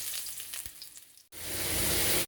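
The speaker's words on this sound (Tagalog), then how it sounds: "Pag mainit na, i-fried lang po muna natin ang patatas" Potatoes frying in hot oil in a pan, a steady bright sizzle that swells loudly after a short quieter stretch of kitchen noise.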